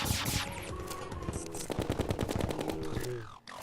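Rapid laser rifle fire from the game Terraria during a boss fight, a fast train of sharp repeated zaps packed closely together, loud and continuous for several seconds before cutting off abruptly.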